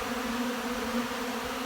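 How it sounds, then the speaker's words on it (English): A dense swarm of many bees hums steadily outdoors around grass, a loud continuous buzz that stays even throughout with no talking. "Holy, this is a lot of bees."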